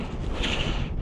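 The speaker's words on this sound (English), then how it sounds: "It's super windy up here." Strong wind on a Scottish mountain top, Beinn Fhionnlaidh, buffets the microphone in a steady low roar with a brief gusty swell in the middle.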